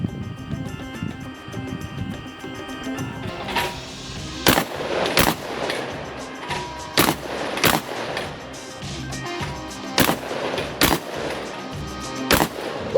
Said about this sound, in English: I have a beautiful Beretta 1301 from Langdon, and then we're shooting the MITS target system.